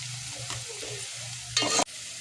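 Onion fries in a pan for prawn rice, a low steady sizzle with a faint hum, broken near the end by a brief louder hiss and scrape of stirring.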